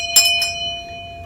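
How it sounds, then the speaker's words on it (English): A short notification bell sound effect chimes twice, bright and close, then a clear tone rings on and fades, no voices. "ring that notification bell"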